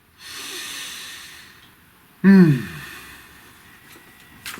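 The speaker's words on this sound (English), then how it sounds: "Please take a nice deep breath" A single deep breath drawn in and then let out in a loud, close rush, heard alone against quiet room tone.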